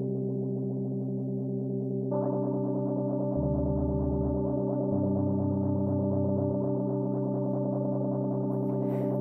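Bleass Flanger plugin sweeping a sustained synth tone, its flanging LFO B sped up so the whooshing, comb-like modulation cycles faster, with low bass notes shifting underneath and no talking.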